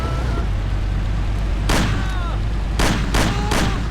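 Gunshots in a film shootout scene: a few sharp, loud cracks, one single shot followed by a quick cluster of three, over a steady low background hum with no talk.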